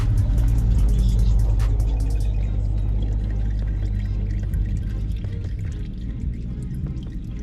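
Old engine oil drains from a 1998 Ford F-150 with a 4.6 engine, 4x4, pouring in a continuous low stream with scattered drips that gradually ease off.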